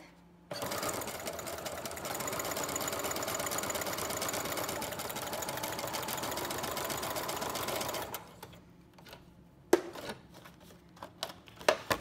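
A Brother Project Runway Limited Edition sewing machine stitches a decorative pattern, running steadily and loudly for about eight seconds, then stops, followed by a few sharp clicks and taps.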